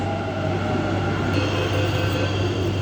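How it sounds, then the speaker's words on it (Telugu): A Bangalore metro train pulls into a station beside a stopped train at midday, a steady low rumble and hum of cars and rail with a faint higher whine, continuous and fairly loud with no talk. "మన ట్రైన్ ఆగే ఉంది, ఇంకోటి వచ్చేసింది."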